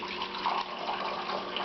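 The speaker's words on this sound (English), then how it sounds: "So the way that's done is to pour it back in, and this cools it down at the same time. But you pour it in from quite a height" Filtered chai poured back into a pot from a height to cool and froth it, a steady rushing liquid stream heard close and moderately loud without a break.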